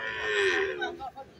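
A buffalo at a buffalo market in Rajshahi lets out one short, fairly close moo that rises and trails off, with faint crowd noise around it.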